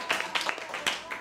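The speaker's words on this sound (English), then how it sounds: "Give them a big clap as well" A class of children claps for their classmates in a music lesson, a brief scattered burst of several uneven hand claps with a low murmur in the room.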